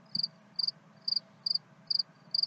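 Crickets chirp in regular pulsing trills, about two per second, close and clear over a quiet background.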